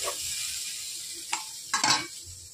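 Cumin seeds and onion fried in hot oil in a home kitchen pan for a curry: a soft, steady sizzle with two brief louder bursts of spitting as they go in, fairly quiet overall.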